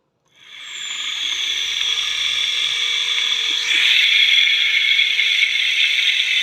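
Electric bike hub motor spinning steadily after a bearing repair, a smooth continuous whine with no ticking, close and fairly loud throughout.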